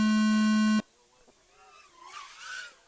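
Loud steady electronic tone from an FPV drone race timing system at a KillaKwads 2023 series race, holding for under a second before cutting off abruptly, followed by faint talk and background noise.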